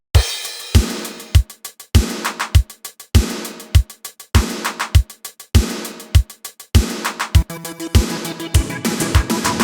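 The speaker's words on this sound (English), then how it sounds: "This is the drum beat we're gonna work with." Industrial electronic drum loop: punchy, heavily processed kicks and snares repeat in a tight, mechanical pattern, with metallic, noisy hits layered between them. The loop is loud and plays alone, with no talking.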